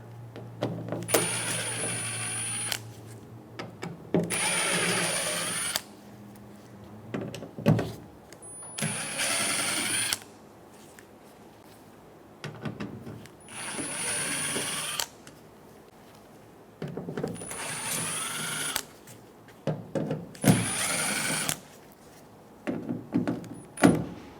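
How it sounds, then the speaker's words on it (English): Eight T15 Torx screws backed out of the tailgate cover on a 2014-2018 Chevrolet Silverado 1500, heard as repeated bursts of a cordless driver whirring, separated by short pauses and small clicks and handling sounds, close up with no talking. "Using a T15 bit, we're going to remove the 8 screws for the tailgate cover."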